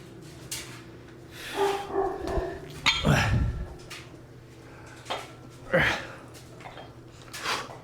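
Dogs bark repeatedly at close range in irregular bursts, with a voice heard in between.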